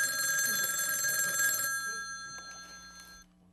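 A telephone rings loudly in a Korean TV comedy sketch, a bright steady electronic trill that cuts off abruptly partway through, leaving a quieter tail with faint clicks.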